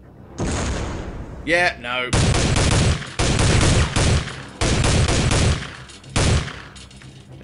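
Repeated bursts of automatic gunfire in Soldier of Fortune II, several loud volleys separated by short gaps, with a brief spoken exchange in the middle.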